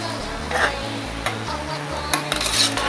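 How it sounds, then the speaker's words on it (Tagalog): Carrots and meatballs are stirred in a hotpot, with scraping and clinking from the utensil against the pot in short bursts over a steady low hum. "Lagay na natin lahat yung bola-bola. Yan, gawin natin, ihalo lang natin."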